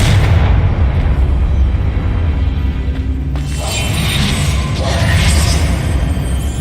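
The Confringo blast curse from Hogwarts Legacy goes off as a loud, bright explosive burst partway through, over a constant rumbling game soundscape with a whooshing tail after the blast.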